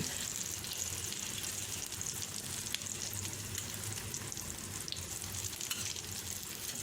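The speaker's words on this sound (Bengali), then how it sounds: "এই জন্য ডিমটাকে ভালো করে ভেজে নিতে হবে" Hilsa fish roe fries in oil in a pan with a steady, fairly quiet sizzle and crackle, constant throughout with faint stirring and no voices.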